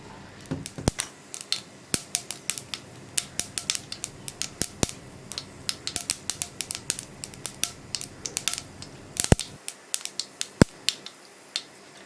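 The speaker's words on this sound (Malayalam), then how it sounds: "അപ്പോൾ നമ്മുടെ കടുക് പൊട്ടി കഴിയുന്നുണ്ട്." Mustard seeds popping and spluttering in hot oil, a dense run of sharp crackles and pops at irregular intervals, close and fairly quiet.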